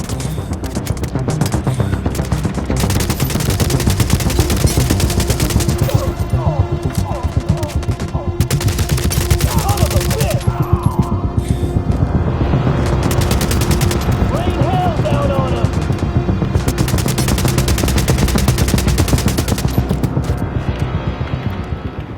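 Dense, sustained gunfire from The Division Resurgence, a mobile shooter game: continuous rattling automatic bursts and overlapping shots, loud and close, with brief voices and game effects mixed in throughout.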